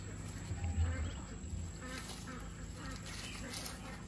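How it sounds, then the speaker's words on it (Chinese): Young Muscovy ducklings trail a mother hen while foraging, their quacks and peeps faint and scattered over a constant background hum, with a person speaking softly. "这小番鸭长得还挺快的"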